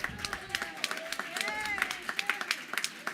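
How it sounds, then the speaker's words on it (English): Audience at the National Action Network Convention 2022 breaks into applause, a run of sharp scattered claps building and thinning over a few seconds, with voices talking over it. "big round of applause to Shayla"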